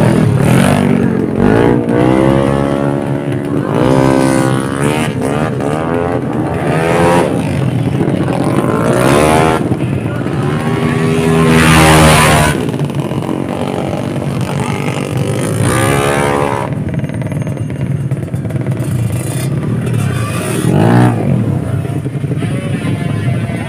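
A Kawasaki Ninja ZX25R motorcycle engine revs repeatedly, rising high-pitched screaming sweeps that climb and fall in several bursts, loud and close.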